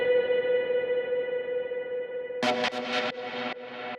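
Synth plucks from an Ableton Essentials pack for techno: a long sustained synth tone holds first, then a few short, bright, effects-laden plucks strike in quick succession near the end, with no talking.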